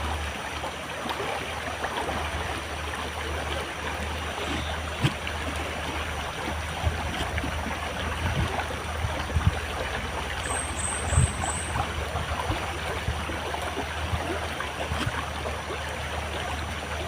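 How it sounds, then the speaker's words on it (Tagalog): Shallow stream water flowing steadily, a continuous bubbling rush with small trickling splashes, close and even throughout, with a low hum underneath. "Sapa yun. Sapa dito, oh."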